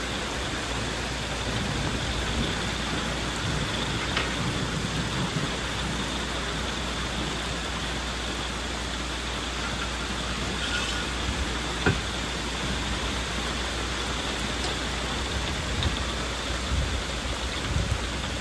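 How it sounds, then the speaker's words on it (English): Steady rain falls outside a pop-up camper during a storm, a continuous, even hiss of drops on the surface with a low background rumble and no talk. "The rain is still going."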